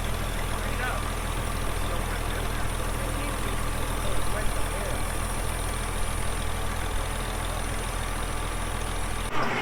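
A tractor engine runs after being restarted, a steady close rumbling idle with a constant low drone throughout, cutting off abruptly at the very end.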